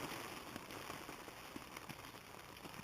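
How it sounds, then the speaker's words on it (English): Steady patter of rain drumming on a thin tent, a dense continuous crackle with occasional louder drops, fairly close. "but it's raining"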